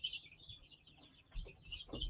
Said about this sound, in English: Sounds like a flock of birds over there, huh?